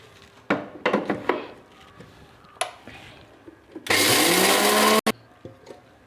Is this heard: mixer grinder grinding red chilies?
yes